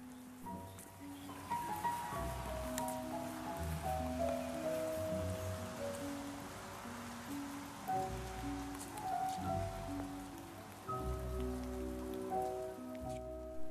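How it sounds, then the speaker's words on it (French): Heavy rain pours onto the surfaces around a greenway path in the Luberon, a dense steady patter heard throughout alongside a few tonal sounds. "nous empruntons la voie verte sous une pluie diluvienne"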